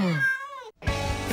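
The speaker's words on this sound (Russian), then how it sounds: "А это мой кот." A pet house cat in an apartment gives one clear, close meow that rises and then falls in pitch. A short silence follows, then a burst of rustling noise. Nobody talks.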